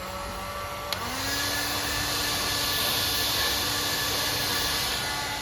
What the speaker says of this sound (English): I think I need some help from the hair dryer